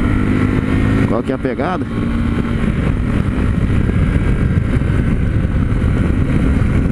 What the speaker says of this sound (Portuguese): Tô acelerando um pouquinho mais aqui, puxando a marcha propositalmente